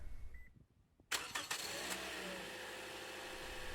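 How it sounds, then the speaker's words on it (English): A Toyota Corolla engine is started by a Compustar remote starter with the hood pin held down. A short beep comes first, then after a pause the engine cranks, catches and settles into a steady, close idle. "And now I'll remote start the car."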